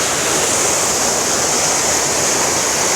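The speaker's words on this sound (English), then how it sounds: "And that's the waterfalls," Seven Sisters Waterfall in Grenada pours with a loud, dense, continuous rush of falling water heard up close, a steady broadband roar with no voices over it.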